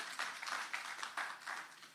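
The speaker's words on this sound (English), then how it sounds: "Give them a round of applause for that." Applause from the audience at a customs lecture, a brief patter of scattered hand claps heard faintly at a distance in a hall.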